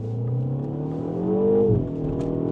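Engine of a 2025 MINI Cooper JCW hot hatch revving under throttle, a steady close drone that rises in pitch over about a second and a half, then eases off.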